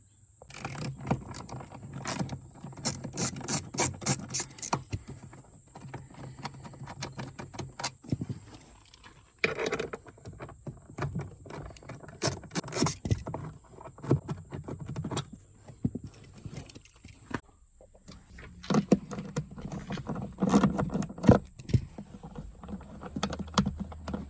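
Bolts holding the under-seat subwoofer of a 2012 Abarth 500 Essesse are worked loose, with irregular clicking ratchet taps and metallic rattles close by, coming in uneven bursts with short pauses.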